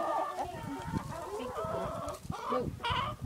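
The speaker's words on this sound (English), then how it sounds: "Here are all the chickens. They're all inside." Chickens cluck and squawk inside a farm coop, several birds close by calling over one another in a busy, continuous chatter.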